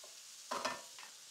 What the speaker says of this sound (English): We've got a nice hot pan that we're working with here.